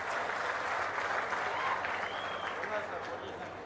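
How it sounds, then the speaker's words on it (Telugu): An audience at a public event with the Chief Minister claps in a steady burst of applause, dense and sustained for several seconds before easing slightly. "బాగా చేసిన దానికి మాత్రం చప్పట్లు కొట్టి అభినందించండి"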